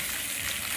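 Steady, continuous hiss of a water spray washing down a gazebo at a farmhouse, close and constant with no pauses.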